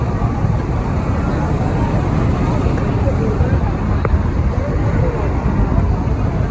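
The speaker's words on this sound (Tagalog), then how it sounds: "Traffic." Steady road traffic noise on a city street at night near a night market, a continuous broadband rumble of passing cars at constant loudness with no clear individual events.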